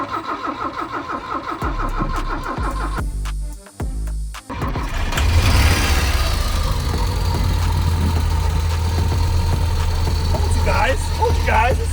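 A Porsche 924 four-cylinder engine, just retuned with new spark plugs and a timing tweak, stumbles briefly, then catches and settles into a loud, steady idle close by.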